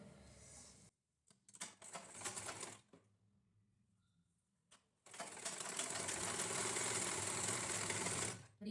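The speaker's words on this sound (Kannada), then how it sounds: "ಮೇಯ್ನ್ ಬಟ್ಟೆ ಏನಿರುತ್ತೆ ಅದ್ರ ಕೆಳಗಡೆ ಇಟ್ಕೊಂಡು ನಾವು ಇಲ್ಲಿ ಉದ್ದಕ್ಕೂ ಕೂಡ ಹೊಲಿಗೆ ಹಾಕಬೇಕಾಗುತ್ತೆ" A sewing machine stitches blouse lining in short bursts of rapid whirring, then runs continuously for several seconds, close and clear.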